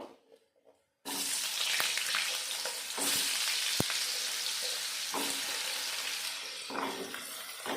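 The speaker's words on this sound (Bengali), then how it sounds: "ওই তেলে আর একটু তেল দিয়ে দেব আলুগুলো ভেজে নেব" Potatoes fry in white oil, producing a loud, continuous sizzle that starts abruptly after a brief quiet moment, with occasional scrapes and knocks of a spatula in the pan.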